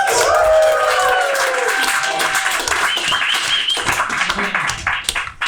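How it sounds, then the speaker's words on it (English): Audience at a live stand-up comedy special applauds steadily and fairly loud, a dense wash of clapping that holds for the whole stretch and thins a little near the end, with a few voices mixed in. "Your claps are keeping me off."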